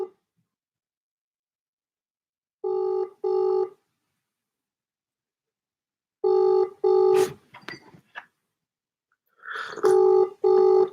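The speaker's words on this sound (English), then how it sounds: "It is ringing." An outgoing phone call rings through with the classic ringback tone, a series of paired beeps with long silent gaps between them, heard clearly and alone with a little faint clatter in between.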